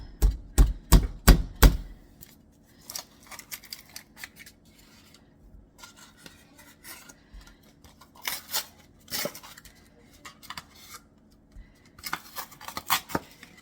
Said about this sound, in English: open up these cinnamon rolls and cut them into quarters